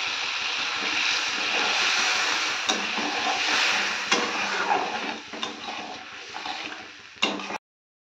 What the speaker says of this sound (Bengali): আর এই যে ঝালটা ফুটছে